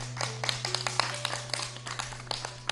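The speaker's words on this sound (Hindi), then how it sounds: "जी भाई, प्यारी सी रूही के लिए भी तालियां बजा दो" Scattered clapping for a young girl who has just recited a children's poem on a television children's programme, with quiet, uneven hand claps over a steady low hum and no talk.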